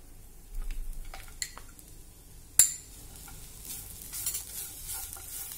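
Roasted coconut, poppy seeds and jaggery stirred together in a pan for modak filling, with soft scraping and light sizzling, a few sharp utensil clinks, and one louder knock near the middle.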